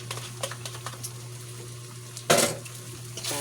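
Chicken sisig with egg stirred in a pan: light scattered clinks of a utensil over a steady background hum, then one loud scraping burst of metal on the pan near the end.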